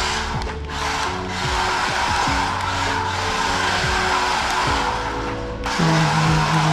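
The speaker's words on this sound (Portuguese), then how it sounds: "É muito difícil mandar drift nisso" A toy RC drift car skids across a surface, its small electric motor whining continuously with rising and falling pitch sweeps as it slides, loud and close throughout the short stretch.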